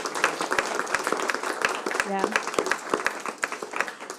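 A lecture audience gives scattered applause for a small team: crisp, sparse claps spread across a few seconds, with a voice briefly heard.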